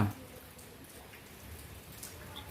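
Faint rain falling in a steady, soft patter with scattered drops, quiet and continuous throughout, no talk over it.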